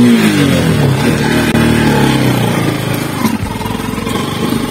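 A motorcycle engine revs hard on an outdoor hunting trip, its loud roar climbing and falling in pitch, then settling into a steadier, rougher throb toward the end.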